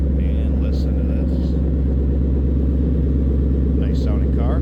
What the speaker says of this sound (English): Nice sounding car.